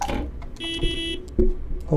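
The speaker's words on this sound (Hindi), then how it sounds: "हॉर्न भी बढ़िया चल रहा है।" A Scania bus horn sounds in Euro Truck Simulator 2, a steady tonal blast lasting about half a second over engine rumble, followed by a brief clicky burst.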